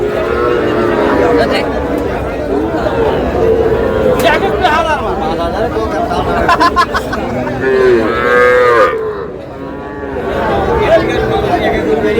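Young bull calves moo repeatedly at a busy cattle market in Kushtia, with several loud, drawn-out calls close by among chatter and crowd voices.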